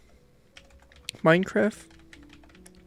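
Rapid clicking of a computer keyboard as a Minecraft command is typed, light close taps running throughout, with someone speaking briefly in the middle.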